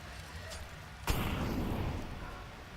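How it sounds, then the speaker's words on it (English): Counter-Strike match with a grenade explosion, one sharp blast about a second in followed by a rumbling, fading tail over low background noise. "they're all stuck at mid waiting for these grenades to stop coming"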